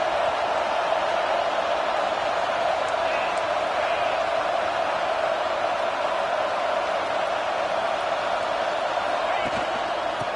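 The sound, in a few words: football stadium crowd cheering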